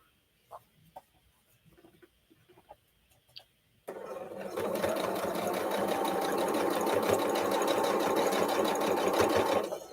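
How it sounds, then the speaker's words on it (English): A sewing machine stitches quilt binding, a few faint taps and clicks first, then a loud, fast, steady whir of stitching that runs to the end. "I just sew down, making binding."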